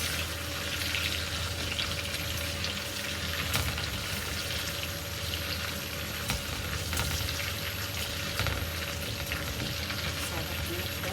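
Sambal of garlic, onion, tomato and chili frying in a pan, a steady, even sizzle with faint crackles throughout and no talking.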